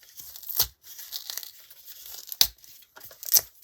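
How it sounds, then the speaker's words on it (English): A Poundland Halloween skeleton decoration has its hair torn off in short, close ripping bursts, with crinkly crackling between the louder tears. "I'm going to take my skeleton here that I got and take off the hair"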